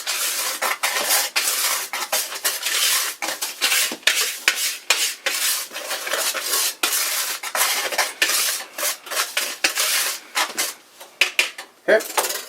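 A whisk beating dry chocolate cake ingredients together in a bowl at home, producing rapid scraping, clinking strokes against the bowl in a fast uneven rhythm, close and loud, slowing near the end.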